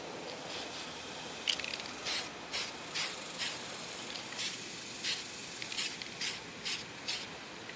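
Light coats of aerosol paint are sprayed onto an RC car body in roughly a dozen short, close, evenly spaced hissing bursts, with a faint clicking of the can between passes.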